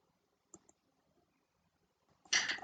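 A computer mouse clicking on a PC, with two faint quick clicks followed by a louder, sharper burst near the end, alone in a quiet room.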